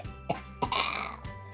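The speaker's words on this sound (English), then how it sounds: "Poor Pedro Pony has a nasty cough." A sound effect of a small child's nasty cough for Pedro Pony in a Peppa Pig read-along story. It gives a few sharp, close coughs in quick succession, with a rougher rasping cough in the middle.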